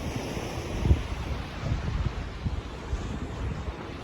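Sea waves wash onto the fine-sand beach at Hua Hin on the Gulf of Thailand under an overcast sky, a steady low rumble of surf mixed with wind buffeting the microphone.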